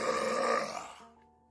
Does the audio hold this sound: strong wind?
no